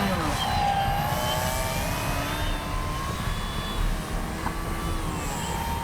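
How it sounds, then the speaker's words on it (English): A Avios Grand Tundra V2 RC airplane flies steadily overhead, its electric motor a continuous sustained drone with slight shifts in pitch as it maneuvers, heard outdoors over wind with faint talk in the background. "Man, what a great flying plane."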